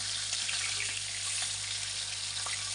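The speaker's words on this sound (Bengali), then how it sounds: "হালকা ভাজা দিচ্ছি, বেশি ভাজা দিচ্ছি না।" Pomfret pieces lightly frying in oil in a pan make a steady, close, even sizzle with faint crackles and a low background hum, and no voices.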